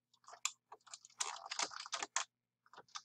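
Computer keyboard typing close up: quick irregular runs of crisp key clicks with a dense cluster in the middle, a short pause, then a few more taps.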